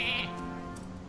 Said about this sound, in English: I had a feeling you had a freaking sheep in there.